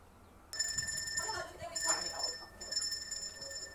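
A hand bell is rung to call magpies to dinner, bright sustained metallic ringing that starts suddenly, fades and restarts a couple of times, fairly faint, with a voice speaking over it.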